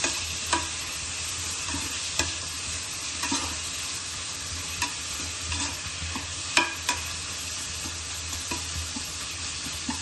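Chopped tomatoes and onions sautéing in a pan for cauliflower kurma, a steady soft sizzle with regular scrapes of a spoon stirring, close and without talk.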